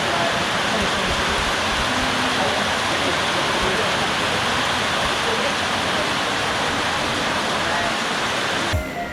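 Waterfall on Mount Kinabalu roaring close by, a steady dense rush of falling water that holds constant and loud throughout with no pauses.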